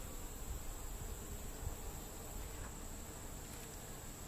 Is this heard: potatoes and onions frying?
no